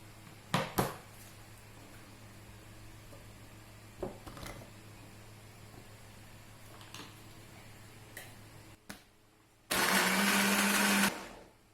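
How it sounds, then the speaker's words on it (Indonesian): A kitchen blender grinds shallots, garlic, turmeric, ginger and galangal for a Padang-style chili paste, running loudly for about two seconds near the end after a few clicks and knocks. "Di blender bawang merah, bawang putih, kunyit, sipade sama lengkueh tadi."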